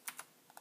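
Four quick keystrokes on a computer keyboard, sharp and close, arriving in two pairs with short gaps between them against a quiet room.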